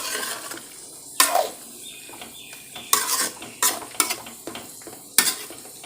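A spoon stirs chicken masala curry in a pot, several distinct scraping strokes against the metal at irregular intervals over a soft background bubbling sizzle, close and clear.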